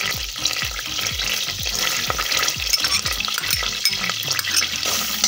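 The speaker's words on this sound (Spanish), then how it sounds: "Y vamos a permitir que nuestro ajo empiece a dorar ligeramente, es decir, que cambie de color." Finely chopped garlic sizzles in melted butter, a bright, continuous crackle under repeated rhythmic scrapes of a utensil stirring the pan, then the stirring stops and the sizzle continues alone.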